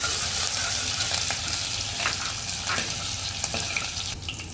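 Crushed garlic and ginger sizzle in hot oil for a Marathi-style chana palak masala, a steady close frying hiss with faint stirring scrapes and no voices.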